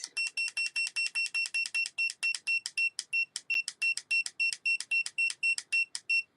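A phone timer beeps in a fast, regular series of bright, clipped electronic tones, sharp and alone against a silent background, with a brief pause midway.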